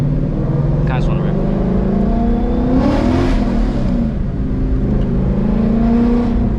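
A car with a Coyote 5.0 V8, running newly fitted gears, accelerates in a steady, loud, close drone. The engine pitch climbs and shifts as it pulls, and there is talk over it.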